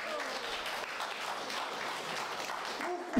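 A church congregation applauding to acclaim God: steady, even clapping from many hands fills the space at moderate loudness throughout, with a voice rising at the very end.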